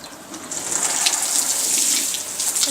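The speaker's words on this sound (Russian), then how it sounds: "заливать надо в несколько приемов, чтобы вода впиталась, потом еще добавим." Water is poured into a planting hole prepared for a rose seedling in a Siberian garden in spring, making a close, continuous gushing splash that swells slightly in the middle.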